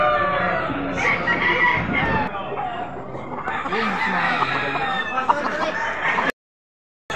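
Roosters crowing and hens clucking at a chicken sale in Padre Garcia, Batangas, with several overlapping crows and clucks close by, chatter from the crowd, and a short stretch of silence near the end.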